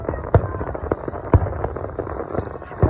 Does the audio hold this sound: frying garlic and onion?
no